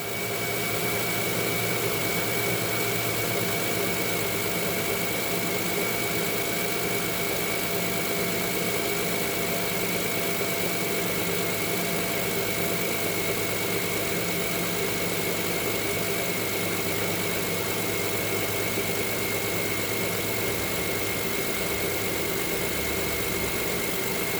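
A car engine idles steadily after a jump start from a Schumacher jump starter pack, a constant low hum with a faint tonal whine, even and unbroken throughout with no voices.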